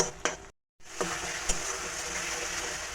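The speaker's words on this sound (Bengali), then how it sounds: "সবগুলোকে সুন্দরভাবে কষিয়ে নেব যতক্ষণ পর্যন্ত না ভাজা হয়ে উপর থেকে তেলটা বেরিয়ে আসছে" Spices with chilli powder and salt fry in hot oil as the masala is cooked down for a prawn malai curry, giving a soft, continuous sizzle with a brief dropout near the start.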